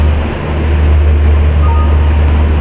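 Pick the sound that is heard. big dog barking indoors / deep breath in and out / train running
train running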